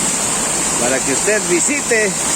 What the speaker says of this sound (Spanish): aquí estamos observando la cascada